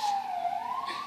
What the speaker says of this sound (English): there are sirens in the background